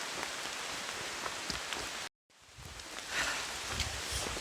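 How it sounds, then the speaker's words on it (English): Rain falls on the Appalachian Trail as a steady, soft patter of drops on leaves and surfaces, broken by one brief dropout of silence, then resuming a little heavier. "And now the rain's starting to come"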